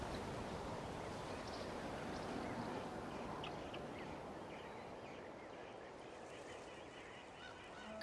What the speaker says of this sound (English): Oh, that's a cuckoo soar. They fly high and fast, and they're always full of energy.